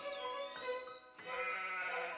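Goats in the mountains bleat in two wavering, tonal calls, one after another, fairly close and alone.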